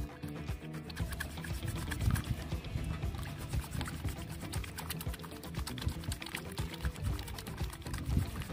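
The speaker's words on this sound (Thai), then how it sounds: "ใช้เศษสบู่ก้อนเล็กๆแบบนี้นำลงไปใส่ ในน้ำและทำการถูให้เกิดฟองเลยครับ" Small scraps of bar soap are rubbed by hand in a container of plain water to work up foam, making a continuous close wet sloshing and squelching with rapid rubbing clicks throughout.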